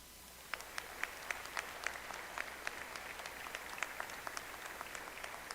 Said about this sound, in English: So please join me in a round of applause to celebrate the accolades and the promise of the Clarkson